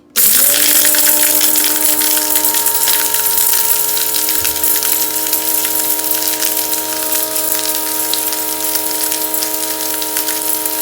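A food processor whirs up to speed and runs continuously grinding spices with celery seed, a loud steady motor drone with a rattling, gritty churn of the seeds inside, no talk.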